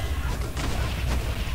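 Explosions in a modded Minecraft game: a continuous rumbling, crackling wash of blasts with a couple of stronger bursts, dense and fairly loud throughout.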